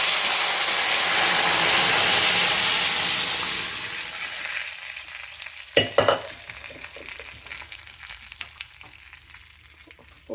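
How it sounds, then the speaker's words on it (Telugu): Tadka poured into amla sambar, a loud sizzling hiss that dies down after about four seconds, followed by a sharp clatter and faint bubbling with scattered crackles. "ఇలా పోపు వేసేసుకోవాలన్నమాట"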